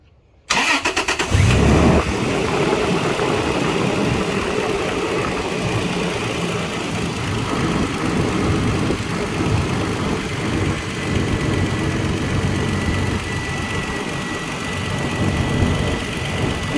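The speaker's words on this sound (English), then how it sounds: "now we're going to start the engine and see what it is with it idling" A Toyota FJ Cruiser engine cranks and catches, then settles into a steady, continuous idle that runs throughout, close and fairly loud with no talking.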